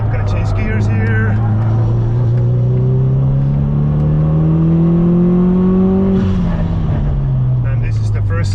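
A Subaru STI accelerating hard on a karting track, loud close engine drone climbing steadily in pitch through a gear, then dropping on a shift, with tire and wind noise throughout.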